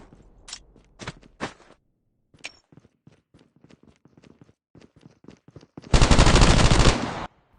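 Gunfire in the mobile video game Call of Duty Mobile: a few sharp shots early, scattered light taps and steps, then a loud sustained burst of automatic fire near the end, with no speech.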